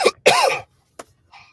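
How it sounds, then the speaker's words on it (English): A man coughing during a podcast conversation: a short cough, then a longer throaty hacking burst, followed by a brief single cough and a faint trailing sound, close and fairly loud with no speech. "Excuse my coughs."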